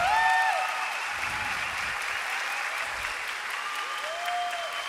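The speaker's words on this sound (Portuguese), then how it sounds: "Uma salva de palmas" Live concert audience applauding steadily for several seconds, a dense even wash of clapping from a large crowd, with faint voices and sustained tones over it.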